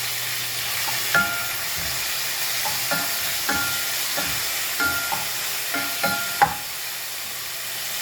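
Tomatoes, garlic and onions sizzle in a pan while a utensil stirs them, a steady frying hiss broken by repeated scraping knocks at an irregular pace, close and clear with no talking.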